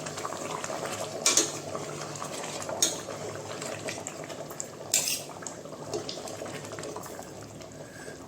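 A spoon stirring chicken masala gravy in a pan on medium heat, with a soft simmering bubble underneath and a few sharp metallic scrapes and clinks against the pan at irregular moments.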